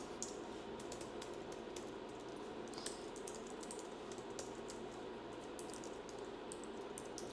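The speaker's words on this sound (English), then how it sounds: "now we're going to type in our personal information" Keys on a computer keyboard clatter in quick, irregular bursts of taps, fairly quiet and close, as personal details are typed into a form with no one speaking.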